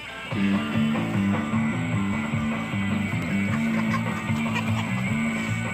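Chickens cluck steadily and overlapping in a busy flock, with a rooster among them, close and continuous throughout.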